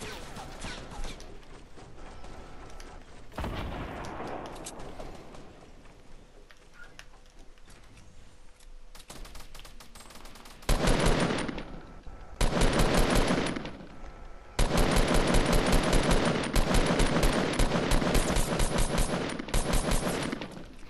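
Rapid bursts of automatic gunfire in a Fortnite duos match, starting as scattered distant shots and swelling into loud, sustained sprays of fire in the second half of the exchange.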